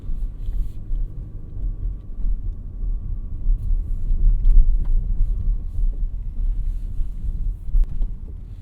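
Cabin of a 2024 Lexus RX450h driving onto rough pavement: a steady low road rumble with a few soft thumps from the surface, muffled and continuous, with no voices.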